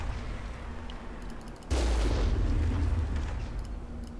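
A sudden heavy blast cuts through a steady low rumble, followed by a lingering boomy roar and faint crackle, a gunshot in Mass Effect, with no voices.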